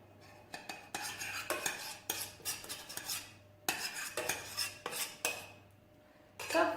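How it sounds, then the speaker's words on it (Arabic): A spoon scrapes and clinks against a dish while chocolate is spooned over sliced chocolate cake, with repeated soft scraping strokes separated by brief pauses and a louder clatter at the end. "دابا غنسقيها بالشوكولات مزيان من الفوق هكا"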